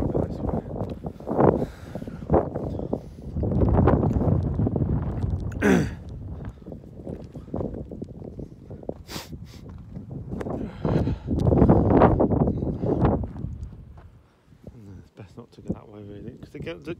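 Gusty wind roars and buffets the microphone in a low rumble on top of the Malvern Hills while a person talks over it, easing briefly near the end.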